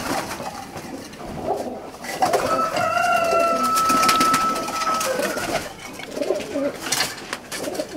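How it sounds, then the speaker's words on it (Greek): Pigeons coo at a pigeon festival in Serres, Greece, with a steady run of calls and a clear whistling tone midway, while people talk in the background of a lively crowd. "Δημήτρη, ωραία ήταν τα πουλιά"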